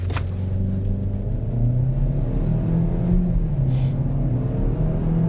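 A 2026 GMC Terrain Denali compact SUV in all-wheel drive accelerating hard from a standstill, its engine note rising steadily from inside the cabin as a continuous loud rumble and whir with no speech.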